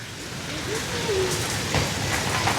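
A steady wash of heavy rain falls throughout during severe flooding in Eastern Samar, a constant hiss with faint background noise and no clear voices.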